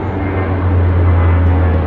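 Royal New Zealand Air Force Boeing 757 and C-130 Hercules transports flying low overhead in formation, their engines giving a loud, steady, deep roar that swells slightly as they pass close by.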